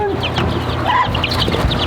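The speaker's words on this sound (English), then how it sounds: "Here, chicks. Come on, chickies." Chicks and chickens cluck and cheep close by in a short, busy burst of overlapping calls on a small farm that also keeps sheep, turkeys and ducks.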